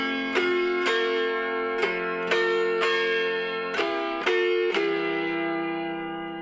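An autoharp plays a run of strummed chords in a steady rhythm, about nine bright, ringing strokes, each decaying briefly before the next, close and alone with no voices.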